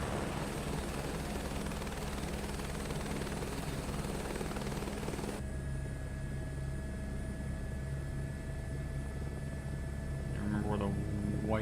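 Helicopter in Microsoft Flight Simulator 2024 flying with no tail rotor control, a steady loud rotor and engine drone throughout that shifts in tone midway, with talk over it.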